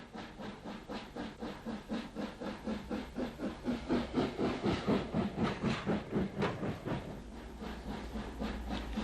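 UG class steam locomotive number 45 heads towards Belfast, its exhaust beating in a steady rhythmic chuff that builds louder as it nears, with hiss and wheel clatter beneath and the beats fading toward the end.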